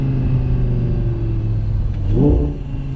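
An Audi R8 Spyder 2020 supercar engine revs over a steady low rumble, climbing to a brief louder swell near the end; the exhaust pops themselves do not stand out clearly.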